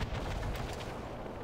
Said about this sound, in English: where is that gunfire going on?